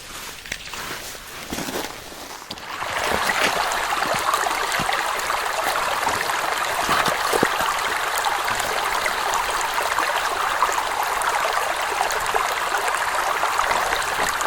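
Mountain stream water in the Catskills flows and trickles steadily close by while squeeze bags are refilled, a continuous broadband rush after a few quieter seconds with light handling noises at the start.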